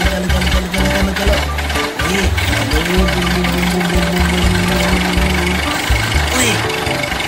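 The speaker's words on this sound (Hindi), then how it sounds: "ये देखो हल्क भी ट्रैक्टर चलाएगा" A cartoon tractor engine chugs steadily in a continuous, loud mechanical drone with irregular knocking pulses, while a voice talks excitedly over it throughout.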